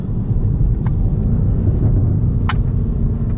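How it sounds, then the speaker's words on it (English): A BMW M5 Competition set to two-wheel drive warms its tires before a launch, heard as a loud, steady low engine rumble with a couple of brief high squeaks over it. "warming up the tires before a launch."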